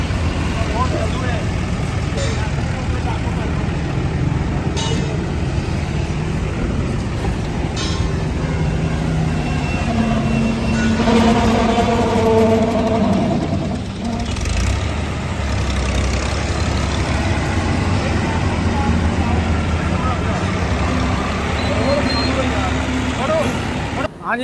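A 2005 Ghazi special edition tractor fitted with a heavy sound system runs with a steady, close engine rumble throughout, while people talk over it.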